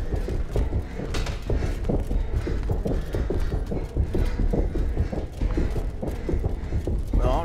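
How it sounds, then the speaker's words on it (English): Enemy footsteps run in the medieval dungeon game Exanima, a loud, rapid, continuous patter of heavy steps that stays close and dense throughout with no talking. "Damn, their footsteps are loud as shit."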